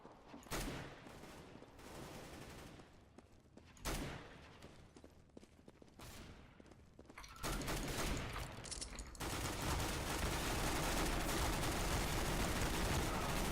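Dense bursts of automatic gunfire and shots from the video game CS:GO, with rapid volleys through the first half that merge into a loud, sustained roar of firing and game noise.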